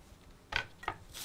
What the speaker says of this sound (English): So I like to slice the chili lengthwise, like this